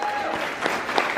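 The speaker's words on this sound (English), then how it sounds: "A round of applause" Brief applause at a Democratic party gathering, a steady patter of clapping from a modest crowd, with a voice or cheer faintly poking through.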